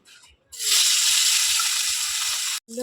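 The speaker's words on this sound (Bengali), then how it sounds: "মাছটা দিয়েছি, মাছগুলো ভাজা হোক এক পিঠ, আবার উল্টে দেবো।" Rohu fish seasoned with salt, turmeric and chili dropped into hot white oil in a wok, bursting into a loud, steady sizzle that holds for about two seconds before cutting off.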